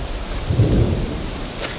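Thunder rolling with steady rain, a broad low rumble swelling midway over a continuous hiss of falling rain, loud and close with no voices.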